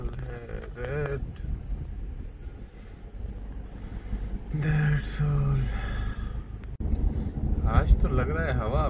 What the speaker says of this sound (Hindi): आज तो लग रहा है हवा अपनी चला रही है, बहुत ज़्यादा तेज हवा चल रही है, शदीद तरीन है।